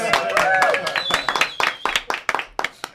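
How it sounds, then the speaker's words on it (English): A studio audience claps for a South African band during a live in-studio TV appearance. The clapping is short, loose and scattered, with sharp individual claps thinning out toward the end. "Can we have another PGA clap, please?"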